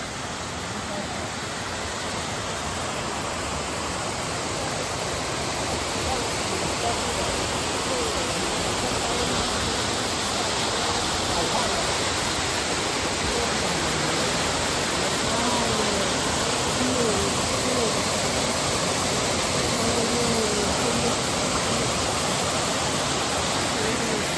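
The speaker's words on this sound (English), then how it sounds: "you can probably hear the water already, but this is their famous waterfall" Waterfall at the Los Angeles Arboretum, a steady broadband rush of falling water filling the whole span evenly and loudly, with no breaks.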